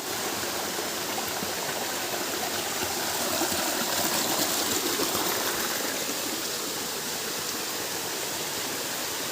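A waterfall in Mindoro spills gently into a pool, producing a steady, close, full rushing wash of falling water that holds evenly throughout without any voices.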